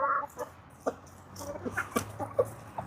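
Chickens clucking at a Mexican farmyard, roosters among the hens, with short soft clucks and squawks scattered irregularly over about three seconds, fairly close and moderate in level, with no talk.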